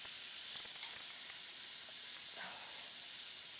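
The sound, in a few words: chicken frying in sizzling oil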